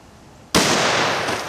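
A single sharp 7mm-08 rifle shot firing a Hornady Whitetail cartridge during bullet expansion testing, loud and close with an abrupt onset and a long broadband ring-out after it, with no talk.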